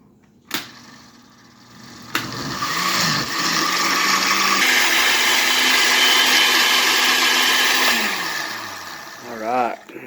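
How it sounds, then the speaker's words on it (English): A blender purees New Mexico red chile pods, whirring up loudly with a droning motor for several seconds, pitch shifting as the mixture churns before the motor winds down; a voice speaks near the end. "you want to blend it for a good, at least a good 5 minutes"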